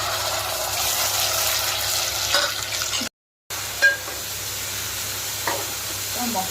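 Chopped onions frying in a kadai brimming with oil while a fish curry is being made: a steady, close, bright sizzle and crackle that continues throughout, broken once by a short dropout into silence.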